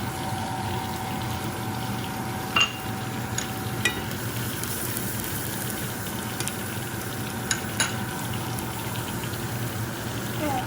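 Garlic frying in oil in a pan while cooking Vietnamese stir-fried beef vermicelli, a steady broadband sizzle holding at an even level throughout, with a few faint clicks and knocks on top.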